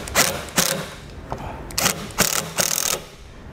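A power driver running self-tapping screws into a tow vehicle's base plate, in several short whirring bursts with pauses between, loud and close.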